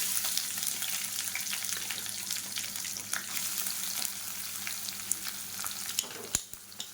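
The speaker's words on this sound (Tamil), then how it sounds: "வெங்காயம் லேசாக வதங்கட்டும்" Chopped onions sauté in hot oil with dried red chillies and curry leaves for a South Indian okra pachadi. A steady, close, crackling sizzle with occasional stirring clinks is heard throughout, with no voices.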